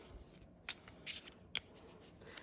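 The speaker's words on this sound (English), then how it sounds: "I'm going to shuffle" A deck of playing cards is shuffled quietly nearby in a few soft, brisk riffles and flutters, faint against a low background hush.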